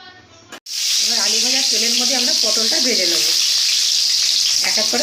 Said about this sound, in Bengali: এই যে পটলগুলো দিয়ে দিয়েছি এবার আমরা ভেজে নেব